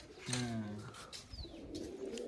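Pigeons kept in a rooftop loft give a near, soft cooing call in one clear burst, followed by quieter murmuring and faint rustling.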